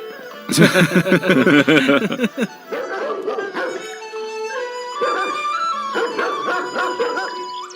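Guard dogs bark and yip outside, a loud burst of rapid barking early on followed by softer, scattered yelps and whimpers with a faint tone running through.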